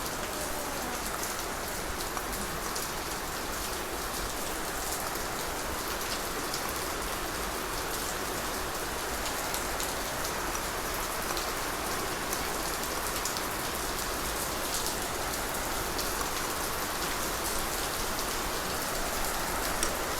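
Steady heavy rain pours down continuously, a dense hissing patter on surfaces all around, loud and unbroken with no voices.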